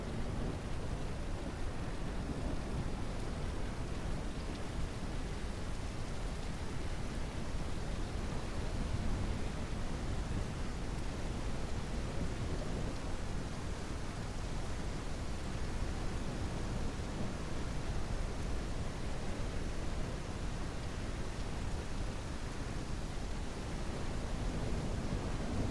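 Steady, even rain falling in the ranching video game Ranch Simulator, a constant soft wash of noise with no distinct thunder and no talking.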